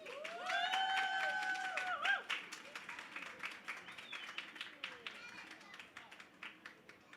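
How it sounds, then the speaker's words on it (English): Festival audience clapping for a guest at a family event, a dense patter of hand claps that carries on after a voice is heard over it near the start and then thins toward the end. "Give another round of applause for Oluwatoyin."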